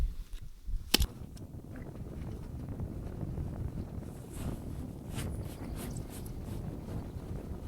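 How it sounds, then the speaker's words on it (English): Wind buffets a microphone on a lake during fishing, with a steady low rumble and gusty roar throughout, plus a sharp knock near the start and faint splashes or creaks later. "Dang wind is blowing me around."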